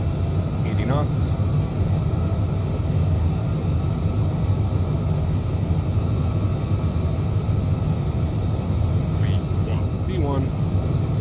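Boeing 787-8 takeoff roll in Microsoft Flight Simulator, a steady loud rumbling engine roar throughout, with occasional faint chirps and voices talking over it.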